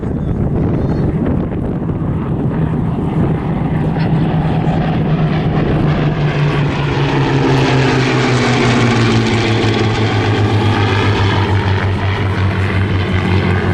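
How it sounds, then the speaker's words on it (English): A Spitfire with a 37-litre Griffon engine and a Hurricane with a Merlin engine make a formation flypast at an evening airshow. Their engines drone loud and continuous, rising as they approach and then sliding down in pitch as they pass, with some wind buffeting. "There's the two lovely engines, they complement themselves absolutely wonderfully."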